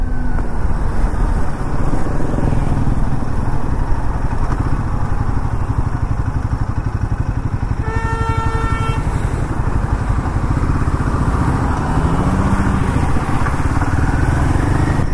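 A Royal Enfield Himalayan 450 motorcycle out on a test ride after brake repair holds a steady loud engine drone with wind rush, and a brief horn-like tone sounds about midway.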